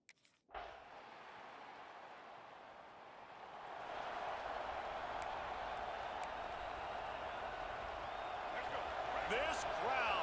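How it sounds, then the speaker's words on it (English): A stadium crowd roars at an EA Sports College Football 26 game between NC State and Clemson, a steady wash of cheering that swells louder partway through and holds, with a commentator's voice over it. "This crowd, full throat, splitting the eardrums and letting them know it's going to be a long day."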